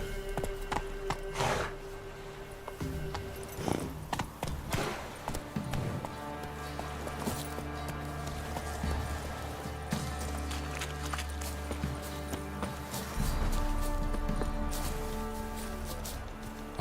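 Roach the horse trots in the video game The Witcher 3, its hooves clopping in an uneven rhythm over game ambience and a steady low drone.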